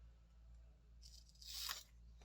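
A craft blade slices notches out of a paper cassette J card label, one brief faint crisp tearing cut over a steady low hum.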